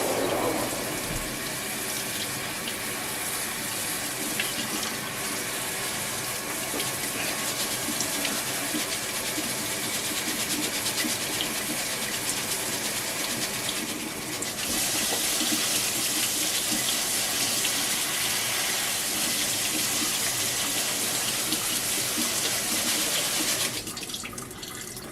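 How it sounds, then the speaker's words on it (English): Rice is rinsed in a strainer under a running kitchen tap, a steady close rush of water with shifting splashes that grows louder partway through and continues for about 25 seconds with no talking. "You need to wash your rice, and I wash it basically until the water comes clean."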